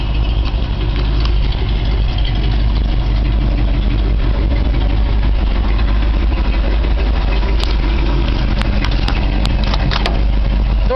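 A 1968 International Harvester 1300 one-ton dump truck engine idling, a loud steady low rumble close up, with a few faint clicks near the end.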